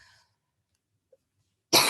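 A single sharp, loud cough bursts out near the end after a stretch of near silence, preceded by a faint hiss and a tiny click.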